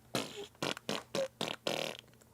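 A voice imitates a fart sound with a string of five or six rapid, buzzy blurts, each short and close-up, the last one drawn out longer.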